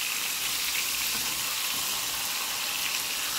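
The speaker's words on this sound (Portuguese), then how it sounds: "Eu não gosto de tampar o fígado pra fritar." Beef liver fries uncovered in a hot pan with a steady, dense sizzle and crackle. The sizzle holds at an even level throughout and is heard alone, close by.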